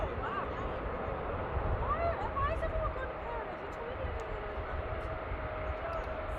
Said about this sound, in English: Big aircraft.